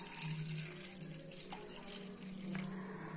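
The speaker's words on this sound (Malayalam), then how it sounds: "ഇനി ഇതിലേക്ക് നമ്മൾ ആവശ്യത്തിന് നഖക്കെ വെള്ളം ഒഴിച്ചു കൊടുക്കാം." Water pours steadily into a steel bowl holding papaya peels, a continuous splashing trickle at close range with a few brief louder splashes.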